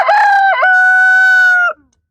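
A backyard rooster gives one loud, close cock-a-doodle-doo, a strong tonal call with a brief dip early on, then a long sustained note that cuts off abruptly.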